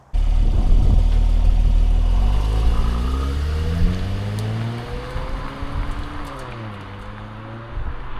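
A crash-repaired Mercedes C43 AMG drives up and down a driveway, its engine loud and close, revving and rising through gears in sweeping pitch changes, then easing off and climbing again.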